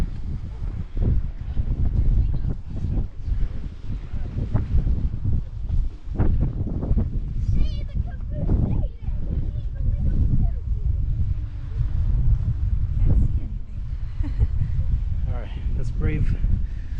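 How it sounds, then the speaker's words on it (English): Strong gusts buffet the microphone at Yellowstone amid sulfurous geothermal ground, a continuous low roar with irregular surges, while a person talks over it. "brave the wind."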